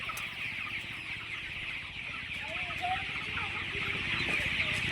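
Many chickens cluck and murmur softly and continuously over a constant background hum, like a crowded poultry shed.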